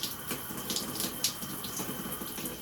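Running shower water pours steadily from the tap during a hair wash, a continuous close hiss and splatter with no talking.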